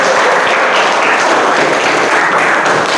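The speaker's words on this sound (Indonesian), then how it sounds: "Berikan tepuk tangan kedua orang tersebut." Classroom applause as students clap for two classmates after an Islamic religious education lesson; a dense, steady burst of many hands lasting about three seconds, then cutting off abruptly.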